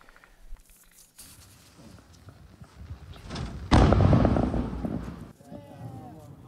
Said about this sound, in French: une vidéo publiée par le Hamas où on entend, où on aperçoit aussi des échanges de tirs